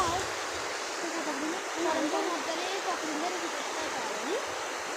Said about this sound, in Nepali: यो खोलाको गति हेर्नु न